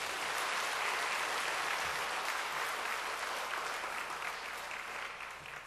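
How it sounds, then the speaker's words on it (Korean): A church congregation applauds in encouragement, a dense, steady wash of many hands clapping throughout, loud and close, easing off slightly at the end. "다시 한번 격려의 박수 부탁드립니다."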